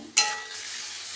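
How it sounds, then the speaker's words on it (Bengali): Mango pieces with their water are tipped into a hot kadai for mango pickle, making one sudden splashing burst that settles into a steady, close hiss. "এবার এই জল সমেত আমটা আমি কড়াইয়ের মধ্যে ঢেলে দিচ্ছি।"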